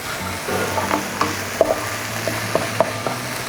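Onions and tomatoes fry in a pan for chicken chukka, a steady soft sizzle with occasional stirring clicks and scrapes of a spoon, close and alone without talk.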